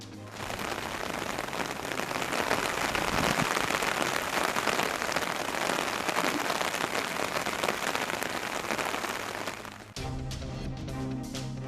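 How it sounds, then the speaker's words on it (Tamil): Heavy rain pours down steadily across parts of Tamil Nadu, a dense, continuous hiss of drops on surfaces that stays loud throughout, shifting briefly to a different busier ambience near the end. "தமிழ்நாட்டின் பல்வேறு பகுதிகளில் வெளுத்து வாங்கிய மழை."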